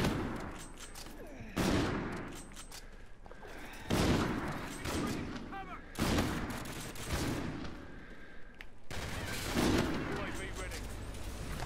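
Sniper rifle shots in Call of Duty: Infinite Warfare multiplayer, several loud booming reports spaced a couple of seconds apart, each followed by a decaying tail over distant game noise and background battle sounds.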